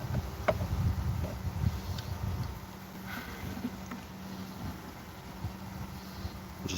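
Bees buzzing around hive comb while the comb is being scraped and straightened, a steady low drone close by with some rustling and handling noise, faint wind in the background.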